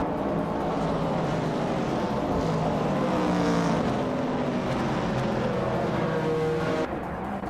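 Race car engines roaring at speed during a race, a loud, continuous high-revving drone with no pauses, fading slightly at the very end.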